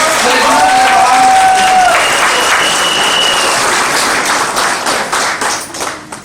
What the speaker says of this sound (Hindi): बहुत जोरदार धमाकेदार दिल से ताली बजाना चाहिए।